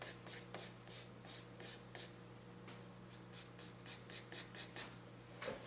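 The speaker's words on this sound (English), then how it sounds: "drawing with the white charcoal" White charcoal rasps across paper in a quick series of scratchy strokes, soft and close in a quiet room, repeating in uneven bursts with brief pauses.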